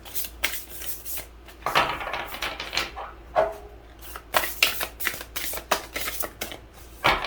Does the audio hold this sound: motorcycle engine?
no